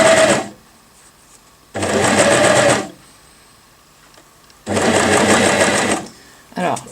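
A Janome Cover Pro CPX 2000 coverstitch machine runs in three loud, steady bursts of rapid mechanical stitching, each lasting about one to one and a half seconds, separated by quiet pauses.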